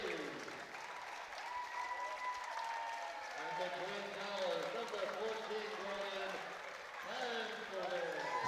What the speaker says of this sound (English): So Kieran Donaghy gets a big cheer as he goes forward